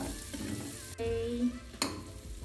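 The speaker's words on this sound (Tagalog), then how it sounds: "O, piprito na natin yan." Pork frying and being stirred in a pan, a steady close sizzle with a couple of sharp clatters as it is moved, no voices.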